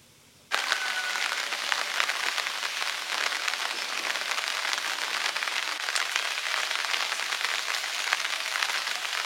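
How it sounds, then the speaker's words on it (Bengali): Steady rain that has just begun falling at a home, a dense, even hiss of drops on surfaces that starts abruptly and holds loud and unbroken to the end. "একটা করে বৃষ্টিটা শুরু হয়েছে।"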